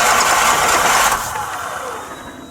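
Car engine just after a rebuild catching and firing up: a loud burst of roaring engine noise that settles quickly into a lower, steadier running sound, close by with no talk.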